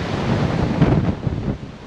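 Sea waves wash onto a narrow beach on Norderney in a steady broadband rush, loud and close, with wind buffeting the microphone and no speech.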